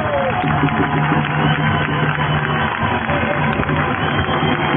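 Dense crowd noise at a village street protest, a steady, loud wash of applause and voices with no pauses, the claps blurring together into a continuous roar.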